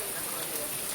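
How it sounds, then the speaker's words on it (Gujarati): Heavy rain falling on a college campus, a dense, steady hiss of drops on surfaces that fills the whole moment, loud and close. "તો તમે જોઈ શકો કેટલો વરસાદ છે કોલેજમાં"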